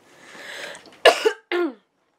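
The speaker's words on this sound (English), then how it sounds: "Sorry, still got the cough going" A single harsh cough followed by a second shorter cough, close and loud, after a stretch of faint background murmur.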